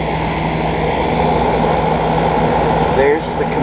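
A 2014 Prem Aire 9,000 BTU PTAC air conditioner's compressor runs outside the building, giving a loud, steady hum with a low tonal drone that holds constant throughout, briefly dipping near the end.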